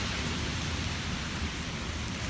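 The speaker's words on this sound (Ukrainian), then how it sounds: "почав падати ось такий маленький невеличкий град" Small, barely visible hail falls outdoors in spring in Lincoln, Nebraska, a steady dense hiss of tiny pellets pattering on surfaces, continuous and even throughout with no voices.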